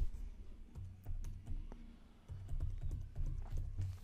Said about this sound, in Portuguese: você pode ir digitando célula a célula a informação que você queira